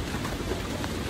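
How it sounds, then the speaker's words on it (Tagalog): Rain falling steadily under an overcast sky near small islands during a fishing outing, heard as a dense, even hiss without pauses and no voices. "At ito ngayon na naman ay kaulan na naman ngayon."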